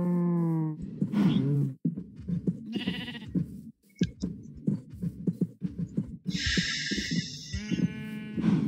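Cows moo in the Minecraft video game, a string of close, fairly loud animal calls following one another with brief gaps and no talking.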